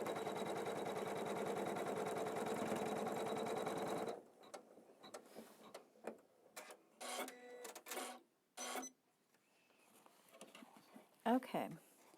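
A home embroidery machine runs steadily for about four seconds, stitching a placement line on a houndstooth-bordered tree design, then stops; afterward come scattered fabric handling noises and brief bumps.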